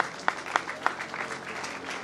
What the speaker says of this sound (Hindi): इस पर जरूर ही तालियां होनी चाहिए।